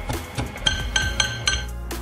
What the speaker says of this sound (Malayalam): ഒരു 3 ചെറുള്ളിയും, 15 വെളുത്തുള്ളിയും, പിന്നെ ഒരു ചെറിയ കഷ്ണം ഇഞ്ചി, 20-25 ഗ്രാം ഇഞ്ചിയും നമുക്കൊന്ന് ചതച്ചിടണം